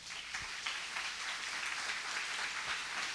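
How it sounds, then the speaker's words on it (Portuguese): A church congregation claps at a worship service, a steady broadband wash of applause that holds evenly for about three seconds with no voices over it. "Aplauda bem forte ao Senhor."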